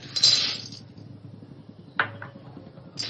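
Green cardamom pods being dry-roasted in a pan, with brief rattling clinks as the pods are shaken or stirred: a cluster near the start, then two sharp knocks later, close and fairly quiet.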